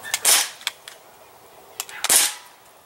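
Two sharp shots from a Crosman C11 BB pistol, each a crisp snappy crack with a brief hiss, spaced under two seconds apart with small clicks between, close and fairly loud.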